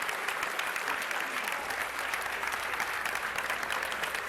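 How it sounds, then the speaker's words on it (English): A crowd at the AGDQ 2015 speedrun marathon applauding after a Ninja Gaiden relay race, with dense, steady clapping sustained throughout at moderate volume, heard from a distance. "Round of applause for all the amazing Ninja Gaiden runners today."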